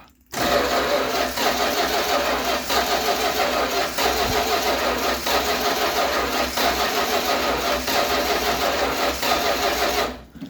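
A 1966 Chrysler New Yorker that sat parked for 18 years cranks and fires up with a choke issue, then its old engine runs loud and close with a rough, pulsing idle for about ten seconds before cutting off.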